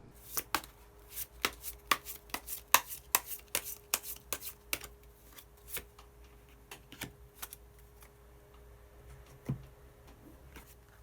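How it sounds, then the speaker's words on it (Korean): Tarot cards being shuffled and drawn, a quick series of crisp, close card slaps and flicks in an uneven rhythm, fairly quiet, with no talking. "그러면 마지막으로 히든 카드 한 장 더 뽑아보도록 하겠습니다"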